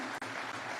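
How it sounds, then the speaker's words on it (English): Audience applause fills a hall at the official launch of a data protection registration system at KICC, a dense, steady burst of clapping with a brief dip partway through, no voices over it. "if we can just give another warm clap right there"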